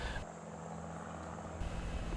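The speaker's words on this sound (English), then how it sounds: "For some reason on this particular day, they had some helicopters flying around." Helicopters flying over Brushy Mountain Prison in Petros, Tennessee give a steady, droning rotor and engine rumble, a constant noisy wash with no voices.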